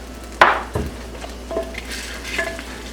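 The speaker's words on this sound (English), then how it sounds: "Give it a good stir." Garlic paste stirred into melted butter in a clay pot gives a soft sizzle with a few close scraping clinks of the utensil, sparse and gentle, no talk.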